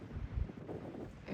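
Wind buffeting the microphone on the summit area of Mount Success in New Hampshire, a low fluttering rumble that rises and falls, close and fairly quiet, with a stronger gust at the end.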